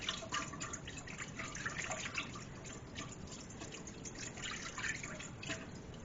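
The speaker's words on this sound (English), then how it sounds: "I'm going to take my little whisk and I'm going to mix this up until the sugar has dissolved" A small whisk stirs sugar into water in a bowl for French bread dough, producing quiet, continuous sloshing and light clinking splashes close by, with no talk.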